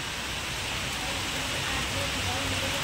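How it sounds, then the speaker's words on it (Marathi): Heavy rain pours steadily outdoors, a dense, even hiss of water filling the whole stretch without letup. "भरपूर असा पाऊस चालू जोरात बरं का मित्रांनो"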